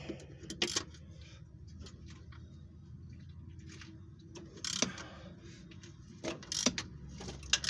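Ratcheting wrench work on a rusty transmission bolt of a Chrysler Voyager: quiet clicking and metallic clanks in bursts over a low background hum, with a few sharper knocks near the end.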